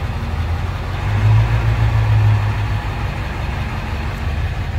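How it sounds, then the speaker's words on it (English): A 1999 Ford F550 with a 7.3-liter diesel, cold and idling near 800 RPM: a steady, close, low rumbling exhaust drone that swells slightly for a second or two mid-clip, with no talk over it. "I'll give you guys a little bit of the exhaust note here."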